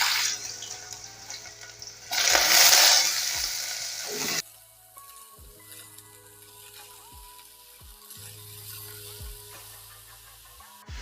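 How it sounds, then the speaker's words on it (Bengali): Carrots and potatoes go into hot oil for a mixed vegetable curry, bursting into a loud sizzle for a couple of seconds that then settles into a quieter, steady frying hiss broken by periodic stirring knocks. "তেলটা গরম হয়ে গেছে, প্রথমে আমি গাজর আর আলুটা ভেজে নিচ্ছি।"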